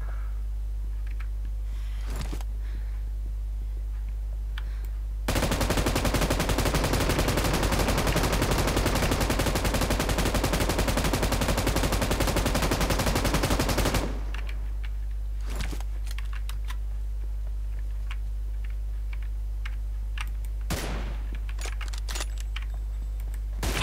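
Rapid automatic gunfire from the PUBG Mobile arena mode, a dense sustained burst of several seconds standing out loud against a quiet, low game hum, with a few isolated faint clicks before and after.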